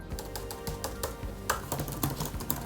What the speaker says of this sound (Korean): 자, 키보드 입력을 한번 제대로 해볼까요?